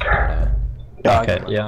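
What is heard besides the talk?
dog barking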